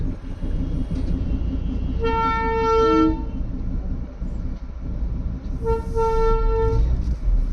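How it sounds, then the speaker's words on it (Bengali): A toy train on the Darjeeling hill road, caught in a traffic jam, sounds two horn blasts, one from about 2 to 3 s and another from about 5.5 to 7 s, over steady low rumble from the engine and the traffic. "ট্রেনের ড্রাইভার ট্রাফিক জ্যামের মধ্যে চালাচ্ছে"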